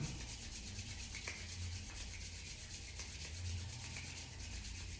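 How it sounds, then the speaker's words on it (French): Hands rubbing together to warm them during a calm sleep-preparation relaxation session, a soft continuous friction swishing heard close and quiet for several seconds, with no talking. "J'inspire, je frotte mes mains."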